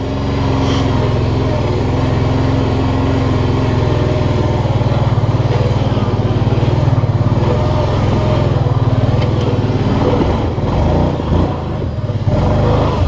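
A Kawasaki Brute Force 750 ATV climbs a rough mountain pass trail, its engine droning loud and steady throughout with a close, throbbing rumble and small surges as it works uphill.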